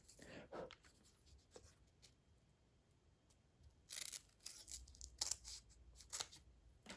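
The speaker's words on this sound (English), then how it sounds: "I'm gonna cut it because I don't actually need both sides." Quiet snips and scrapes of scissors cutting vintage paper for a Halloween journal layout, a few scattered cuts and rustles close by, growing livelier near the end.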